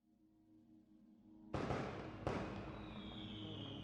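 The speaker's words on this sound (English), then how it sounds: "Oh, we got some fireworks through clouds." Fireworks exploding in a music video: two sharp booming bursts about a second apart, each trailing into a rumbling decay, rising out of quieter music.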